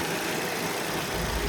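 A Nexia 3 car engine idles steadily with a low, even hum and a broadband rumble that holds at a constant level, alone with no voices.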